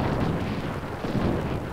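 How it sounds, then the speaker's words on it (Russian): Bridges blown up by partisans in wartime: a dense, continuous low rumbling blast with rolling booms, loud and sustained throughout, with no speech. "Они взрывали мосты,"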